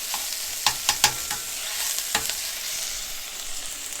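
Bacon frying in a pan with shallots, a steady sizzle with several sharp stirring scrapes and clinks near the start and one more midway, no talking.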